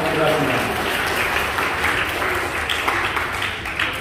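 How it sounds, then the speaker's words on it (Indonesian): Audience applause fills a campus entrepreneurship workshop hall, a steady dense wash of many hands clapping that holds loud and even throughout. "Tepuk tangan."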